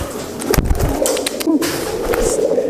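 Pigeons or doves coo softly and repeatedly at close range as a bird is handled and tamed by hand, with low rolling calls running steadily through the whole stretch.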